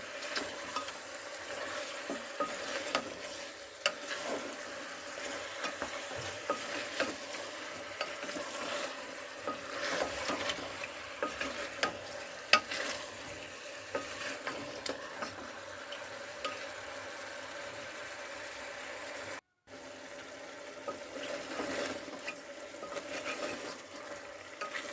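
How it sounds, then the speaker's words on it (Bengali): Beef with salt being sautéed and stirred in a pan for biryani, a steady close sizzle with scraping stir strokes running continuously throughout, briefly cutting out near the end. "এইভাবে কষাতে কষাতে মাংসের কাঁচা গন্ধটা চলে যায়"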